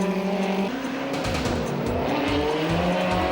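Vintage Alfa Romeo TZ race cars with Zagato bodywork roar past at a historic Grand Prix, engines loud and close, revs climbing as they go by, with a brief tire squeal and no voices.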